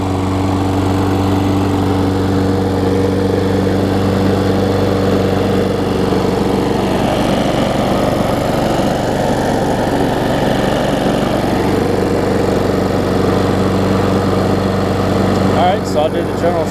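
A Craftsman self-propelled lawn mower with a Tecumseh engine runs steadily at close range after a service, giving a loud, even drone that holds unchanged from start to finish.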